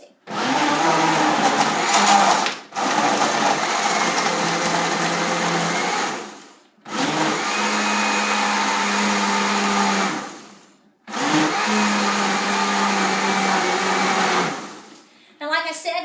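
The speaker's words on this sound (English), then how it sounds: "So we're just going to blend it up with my old-timey blender." An old-timey blender mixing a coconut oil smoothie runs in three loud, sustained bursts of several seconds each, with short pauses between them as the motor stops and restarts.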